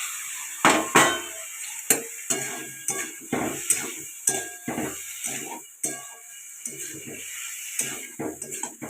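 A spoon stirs boiled potatoes and radish in a pan for a Birbhum-style vegetarian sour dish, with repeated clattering scrapes and knocks in an irregular rhythm, close and moderately loud.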